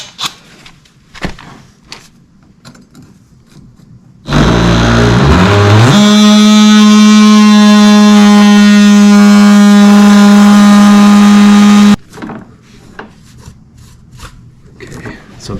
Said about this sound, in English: So we'll give it another shot with the oscillator.